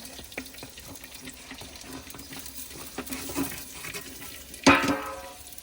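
Onions dropped into a hot pot for Rajasthani dal: a low kitchen bustle, then a sudden loud hiss and sizzle that fades quickly.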